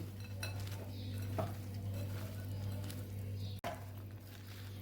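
Chickpea chaat ingredients are stirred and tossed in a bowl with soft scraping and light spoon clinks over a low, constant hum.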